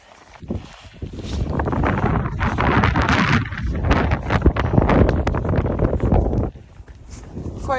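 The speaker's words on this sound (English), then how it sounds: "Quite windy as I make my way up to the highest part of the entire hike." Strong wind roars steadily against the microphone in a loud rushing blast, with faint footsteps and breathing, on a high mountain section of the Rockwall Trail in Kootenay National Park.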